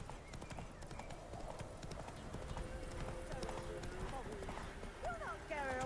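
The horse Roach trots in The Witcher 3 with a steady clip-clop of hooves throughout, under continuous talking voices.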